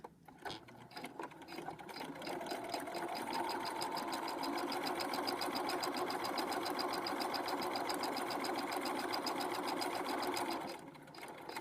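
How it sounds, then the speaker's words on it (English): A sewing machine stitches across the top of a fabric pocket, its needle clattering in a fast, even mechanical rhythm that holds steady and close for about ten seconds before stopping. "I'm going to lower my presser foot down, and I'm going to stitch across the top"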